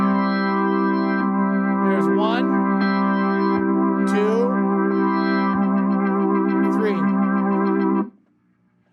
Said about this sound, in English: So here's what the vibrato sounds like with this sound.